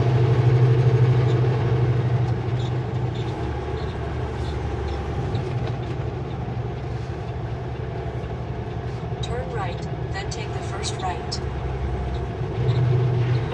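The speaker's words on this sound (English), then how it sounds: "Pickup truck moving through shipping down River Road to the man door by the winter lunchroom" A pickup truck's engine rumbles as it drives along a river road past an industrial mill yard, a continuous low drone heard from close by with road and wind noise.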